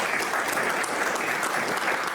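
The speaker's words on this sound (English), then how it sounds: "I reckon that deserves a round of applause." Dense, steady applause from an audience at an agricultural talk, many hands clapping together in a continuous even wash, close and full for a couple of seconds.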